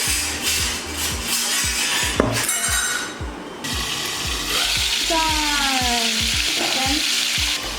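Chicken biryani with rice cooks in a pot, giving a loud, steady sizzle and bubbling with repeated low knocks and scraping, a brief whistle-like tone partway through, and no talk over it.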